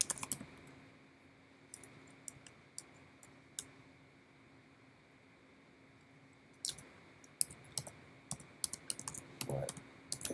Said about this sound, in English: if we go ahead and type in the same thing